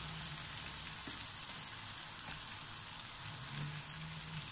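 Shrimp frying in a pan with garlic, a steady close sizzle and crackle with faint clinks, no talk.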